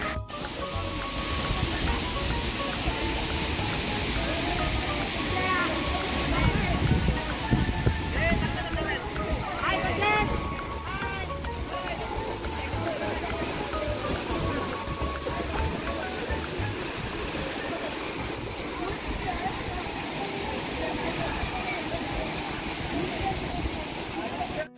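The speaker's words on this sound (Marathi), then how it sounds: "तुम्ही पाहू शकता वरती खूप मोठा धबधबा आहे" Siddhagad waterfall, a tall cascade heard as a constant broad rushing roar of falling water, steady and enveloping, with faint voices mixed in early on.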